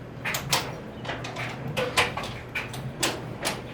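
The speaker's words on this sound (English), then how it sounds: "let me look in my drawer behind me" A desk drawer slides open and is rummaged through while someone searches for a razor or roofing knife in a workshop, giving a string of short, sharp clatters and knocks at close range with no voices.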